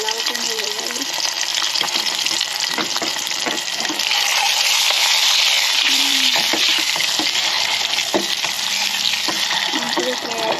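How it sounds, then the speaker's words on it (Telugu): Eggs fry in a pan with a steady, loud, continuous sizzle that lasts throughout, as someone talks over it. "గుడ్లు దీంట్లో వేసుకుంటాను. మరి ఫ్రై చేస్తున్నాను"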